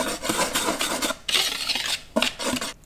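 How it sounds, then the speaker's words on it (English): All-purpose flour, white sugar and a pinch of salt are whisked lightly in a bowl, making close, rhythmic rasping and scraping strokes with brief pauses and no speech. "We'll whisk this lightly to combine."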